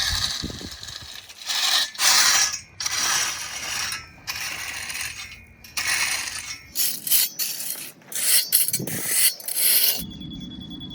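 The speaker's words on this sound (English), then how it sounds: "Now this is a real gravel rake, not the kind I use for the garden." A heavy-duty gravel rake drags loose gravel across a carport pad in repeated bursts of loud, gritty scraping and rattling, each stroke separated by short pauses, close by with no talking.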